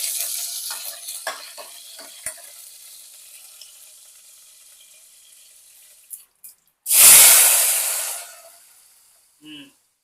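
Pepper rasam with curry leaves and dried red chillies is stirred in a pot, with faint scraping taps giving way to a loud burst of sizzling frying that fades, then a short later sizzle.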